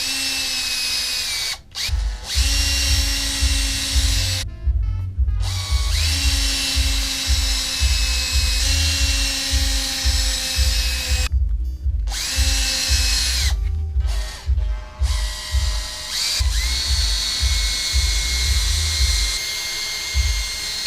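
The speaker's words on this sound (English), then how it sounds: "And we're going to drill out the holes." A power drill fitted with a 1/8 inch bit bores out screw holes for a Pico Loader, running loud and close in steady bursts with several short pauses between them; no one speaks.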